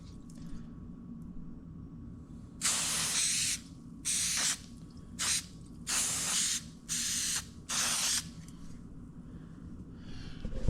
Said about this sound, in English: So it's a spray can.